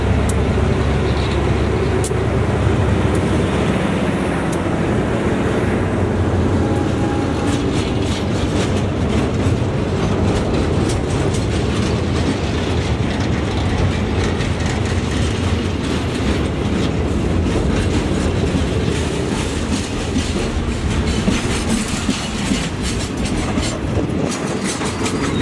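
Freight train 721 pulls out of Prachuap Khiri Khan station in Thailand, a loud continuous rumble with rhythmic clickety-clack of wagons rolling past close by.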